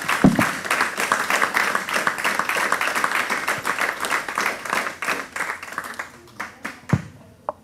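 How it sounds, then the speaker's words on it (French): Sustained clapping from a crowd, dense and steady for several seconds before thinning out toward the end. "Vous pouvez applaudir Alain."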